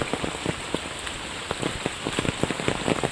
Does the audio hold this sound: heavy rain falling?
yes